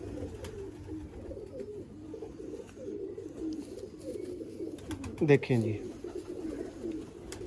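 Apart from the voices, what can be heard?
teddy pigeons cooing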